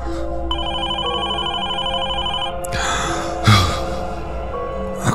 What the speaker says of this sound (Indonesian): telepon berdering masih di meja yang sama.